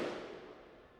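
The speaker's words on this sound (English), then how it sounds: "let's say those are fireworks" Fireworks from a music track, a single broad burst at the start that decays into a fading crackling wash over about a second, moderately quiet.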